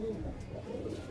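Pigeons coo softly in a loft, a low continuous burbling kept close and steady throughout, with a voice talking over them.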